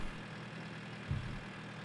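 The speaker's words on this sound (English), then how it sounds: "Oh, my tractor's rolling." A tractor engine in a farming simulator video game rolls along with a low, steady idling rumble, quiet and continuous with a slight swell partway through.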